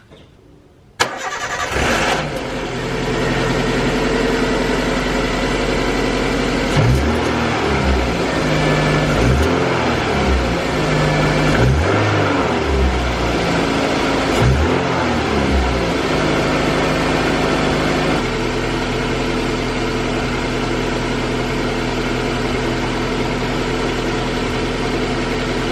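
A car with a newly replaced exhaust cranks and starts, then blips through several rhythmic revs before settling into a steady, close idle with no voices.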